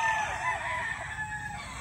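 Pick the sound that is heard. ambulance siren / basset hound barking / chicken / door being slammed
chicken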